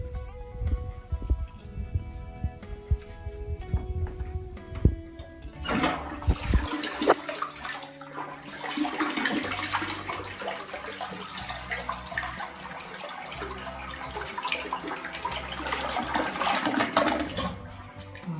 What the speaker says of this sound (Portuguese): Vou dar descarga, peraí